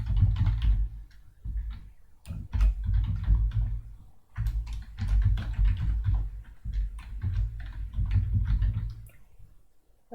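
Typing on a computer keyboard, close and fairly quiet, with bursts of rapid key clicks separated by short pauses.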